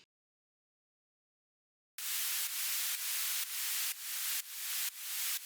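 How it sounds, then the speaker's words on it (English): White noise from a synthesizer in a melodic techno production surges in after two seconds of silence, pumping in rhythmic swells from sidechain compression, each burst ducking and rising again about twice a second. "Now this white noise is sounding quite simple."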